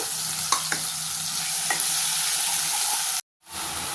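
Chicken masala sautéed and stirred in hot oil in a home kitchen, a steady close sizzle with occasional scraping stirs, cut off by a brief silence near the end.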